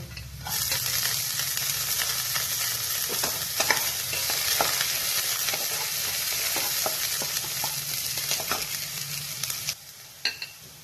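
Cashews fry in a hot pan with bread pieces for a savory bread breakfast, the sizzle surging up just after the start and running loud and steady, with repeated spatula scrapes and a final clatter.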